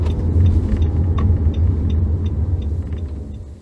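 A car engine rumbles low and steady at close range while the car parks in a small car park. Faint clicks sit on top of the rumble, and no one speaks.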